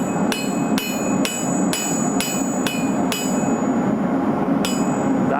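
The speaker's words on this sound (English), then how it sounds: "back to the anvil." A sheet metal burger flipper hammered on an anvil: a steady series of sharp, ringing metallic strikes, evenly spaced about every half second, loud and close with no talking.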